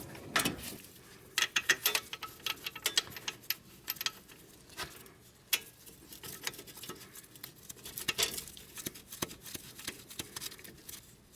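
Bolts being threaded and screwed into the steering knuckle of a Chevy Impala during a front wheel bearing replacement: irregular, close-up metallic clicks and ratcheting taps, with no voices.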